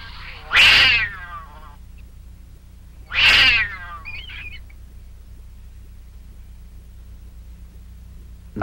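A cat fighting a marten lets out two loud, drawn-out yowls a few seconds apart, followed by a fainter short cry, over a quiet low background hum.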